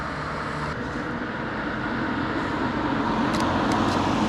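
A car passing at night on a city street, a steady broadband roadway rumble that swells slightly toward the end, with faint high ticks near the close and no voices.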